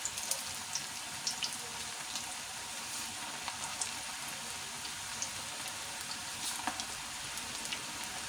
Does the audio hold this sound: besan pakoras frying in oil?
yes